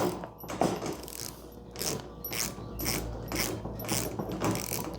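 A socket ratchet clicks in quick repeated bursts while tightening lock nuts on a Fleximounts GL1 rising garage storage rack, close and alone with no talking.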